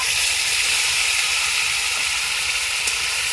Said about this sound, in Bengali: এরপর তেলের মধ্যে বেটে রাখা মশলাগুলো দিয়ে দেব।